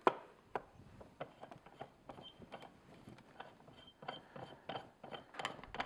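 A mini fruit press squeezing fruit in a pressing bag under a pressing disc gives a series of close, irregular creaks, ratcheting clicks and cracking pops of varying loudness, with no talk.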